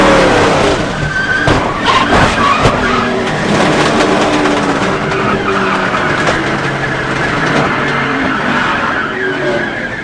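A NASCAR race car crashes during practice at Talladega, with loud sustained tire skidding and squeal over a roaring engine, harsh impact crunches and scraping, close and continuous.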